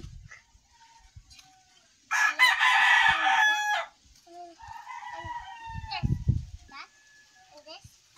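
Rooster crows loudly and close by amid chickens clucking in a backyard flock, with scattered children's voices and adult talk around the birds.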